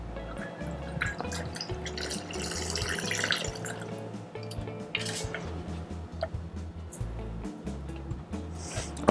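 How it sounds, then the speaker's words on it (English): A Martinez cocktail is strained through a small bar strainer, giving a steady trickle and drip of liquid with soft clinks, close and fairly quiet. "Then we get a nice little strainer. We strain it in."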